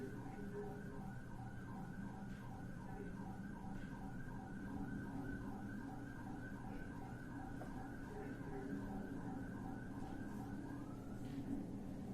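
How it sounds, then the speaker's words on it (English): A police siren wails in a repeating cycle, somewhat distant and muffled, over constant road rumble. "Now the siren goes off"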